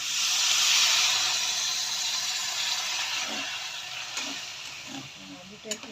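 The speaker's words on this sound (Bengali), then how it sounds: "পরিমাণ মতো একটু আমি জল দিচ্ছি।" Water poured into a hot pan of raw potatoes sets off a loud steamy hiss that slowly fades, with a few soft clatters near the end.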